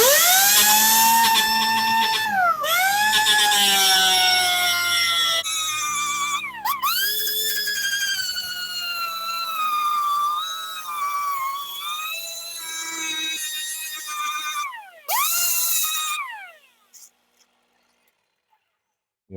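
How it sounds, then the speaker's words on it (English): A grinder runs over a spun custom air cleaner for an antique car, dressing the metal surface: a loud, shrill whine with rising and falling pitch swoops, broken by brief pauses and ending in silence. "I'm going to spin it here and just run the grinder over it"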